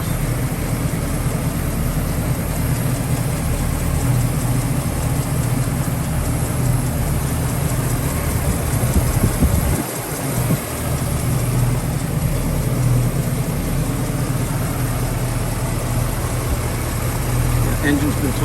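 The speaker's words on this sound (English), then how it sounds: "Engine's been totally freshened up." A freshened-up 1968 Pontiac Firebird engine idles steadily and loudly up close, with a continuous low rumble and one brief dip midway.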